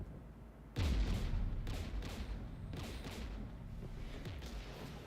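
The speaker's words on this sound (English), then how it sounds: "We're taking fire." Gunfire and booming blasts in Mass Effect 3 Legendary Edition, near a Geth jamming tower with anti-aircraft guns: a heavy, loud onset followed by continuous rattling fire with repeated pulsing bursts, no voices.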